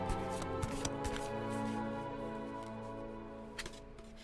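Tarot cards being shuffled by hand, a soft riffling and tapping that comes in quick bursts over quiet background music, fairly faint and close.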